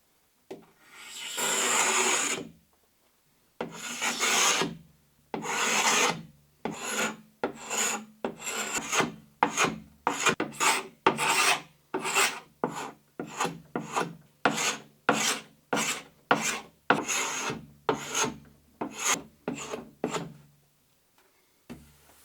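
Lacquer is scraped off a birch wood board in repeated rasping strokes, first a long pull and then a steady run of about twenty quick, evenly spaced scrapes, close and loud with short pauses between.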